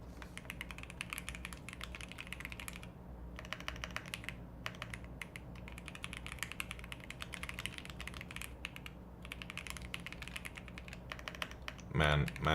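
Rapid typing on a computer keyboard with a fault that doubles keypresses, dense close clicks in bursts broken by short pauses, ending in a louder clatter.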